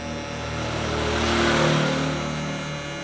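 A hair clipper buzzes steadily and close while cutting a smooth fade during an Ivy League haircut, its motor drone swelling slightly and then easing.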